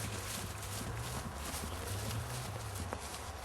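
An injured horse being coaxed into a few strides of trot, its hooves clip-clopping in a steady rhythm at moderate distance over a low, continuous background hum.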